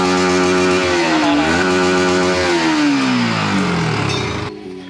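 A Yamaha R15 M motorcycle with its stock exhaust runs loud and close, its engine note rising and falling through a couple of revs before cutting off abruptly near the end.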